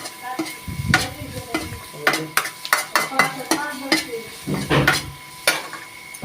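Salted vegetables frying in a pan are stirred steadily, with a rapid series of spoon scrapes and clinks against the pan over a continuous sizzle, close and loud, without talking.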